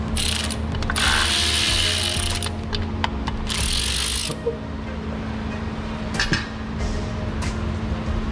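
A ratchet wrench turns a socket on a car during an oil change, with close bursts of rapid metallic clicking separated by short pauses over a steady low background hum.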